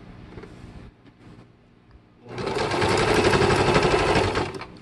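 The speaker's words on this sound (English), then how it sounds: "I'm going to have to kind of like push my dress in under the machine so that way it does not pop my thread" A sewing machine stitching fringes onto a jeans skirt, starting after a quiet pause with a few faint clicks, then a loud, close, continuous whirring rattle of rapid stitching that holds steady for a couple of seconds before easing off.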